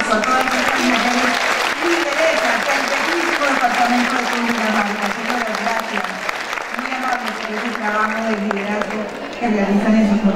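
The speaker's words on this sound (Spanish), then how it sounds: "con un fuerte aplauso a todas las mujeres" Loud, sustained applause from an audience honoring women artisans at the ExpoCundinamarca 2018 event, with a voice talking over the clapping throughout.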